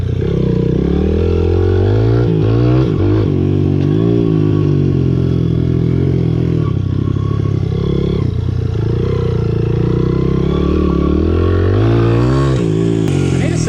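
A Honda CRF 100F dirt bike engine roars loud and close during a wheelie attempt, revving up and dropping back repeatedly as the rider shifts through the gears, with a voice talking over it.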